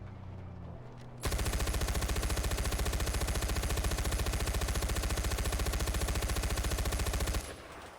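Sustained rapid automatic gunfire in the video game Far Cry 4, aimed at shooting out vehicle tires: a loud, continuous burst of evenly spaced shots lasting several seconds before cutting off abruptly.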